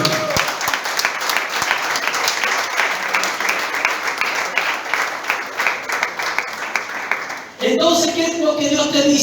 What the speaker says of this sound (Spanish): Aplauda al que vive.